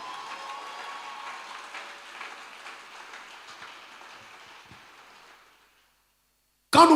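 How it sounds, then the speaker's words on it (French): A church congregation applauding and cheering for the Lord, a broad wash of clapping that gradually fades away to silence before a brief loud burst at the end. "acclame très fort le Seigneur."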